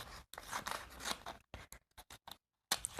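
Scissors cut through wide washi tape close up in short crisp snips and rustles, with a few separate clips and brief pauses between the cuts.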